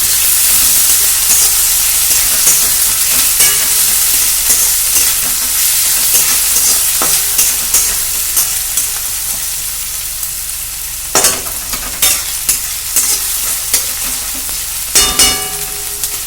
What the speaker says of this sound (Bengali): পেঁয়াজটা এবার সুন্দর করে ভেজে নেব